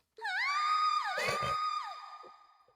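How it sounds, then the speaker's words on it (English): A single long, high-pitched scream rings out in the video game Trails of Cold Steel, loud and wavering before it tapers off, heard alone. "Scream? It came from farther inside."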